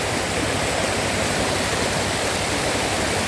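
Strong river current rushing over small stones, a loud, steady broadband roar close by that carries on without break, with no voices over it.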